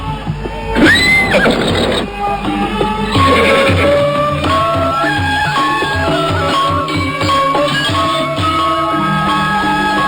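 A horse neighs in a loud, close whinny within a radio drama soundtrack, set over music and dramatic background sound, with a hint of clip-clopping hooves.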